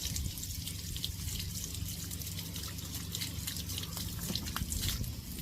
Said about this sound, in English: Now we just have to let all of this drain out.